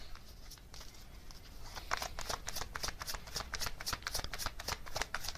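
A deck of oracle cards is shuffled in a riffling, rapid sequence of crisp card flutters that grows busier after the first couple of seconds, close up and alone with no talk.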